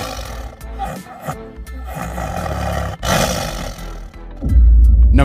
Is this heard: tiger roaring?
yes